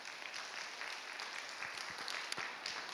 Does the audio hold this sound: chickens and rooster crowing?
no